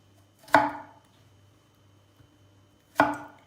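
Two sharp knife chops cut onions into large pieces on a cutting board a couple of seconds apart, close and distinct against a quiet background.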